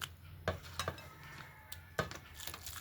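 Roasted eggplant being mashed by hand with mustard oil, heard as a few soft squelching, clinking taps at irregular intervals, close and fairly quiet.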